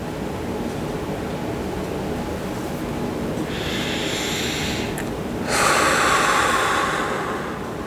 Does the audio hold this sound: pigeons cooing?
no